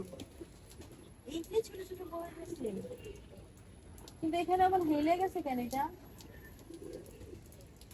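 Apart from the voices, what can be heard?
pigeons cooing on a rooftop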